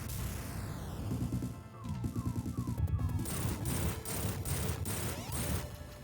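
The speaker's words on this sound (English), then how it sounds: "these are just the rockets" Rockets fire in Sonic 3D Blast: Director's Cut amid chiptune-style game music, with repeated descending zaps and a run of crashing blasts and bright metallic hits in quick succession, fairly quiet overall.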